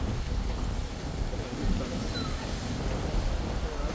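Monsoon rain falls outside on the Goa coast near beaches and forts, a dense, steady hiss of rainfall with low rumbling undertones and no clear voices.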